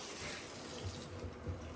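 A faucet runs hot water in a home supplied by a self-drilled well during a freeze, heard as a faint, steady hiss of flowing water with a few soft low bumps.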